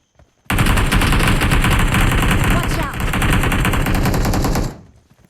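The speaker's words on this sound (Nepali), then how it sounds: "गोली हानेर फुटाउने कोसिस गर त" Rapid automatic gunfire in a parkour video game, fired at an object to break it, a loud continuous burst of closely spaced shots lasting about four seconds with a brief dip midway, then stopping abruptly.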